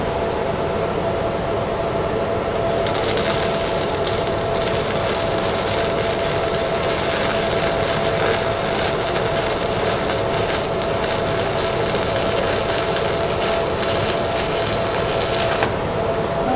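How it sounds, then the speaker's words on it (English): Arc welding on steel plate, the bead run up and over onto a tab: a steady, dense crackling hiss that holds loud and unbroken for about thirteen seconds over a low background hum, with no talking. "what that allows me to do is actually run my weld up and over"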